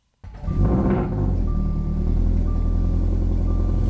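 A Toyota GR86 freshly tuned with ECUtek fires up from a cold start, catching abruptly and then holding a loud, steady, deep idle rumble close by for several seconds with no talking.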